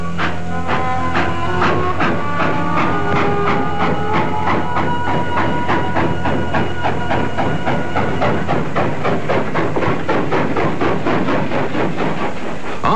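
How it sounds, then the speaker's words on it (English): Troop trains on a railway line in revolutionary-era Mexico, a steady loud rumble with rhythmic clattering of wheels over rail joints that runs continuously and close by, with no voices. "slaving until the troop trains could once more rumble through to the north"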